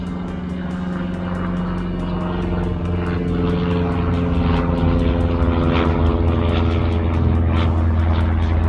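WLtoys WL911-A RC speed boat on a pond, its small motor buzzing loudly and steadily with a high, propeller-like whine that swells slightly as the throttle rises, near and continuous without talk.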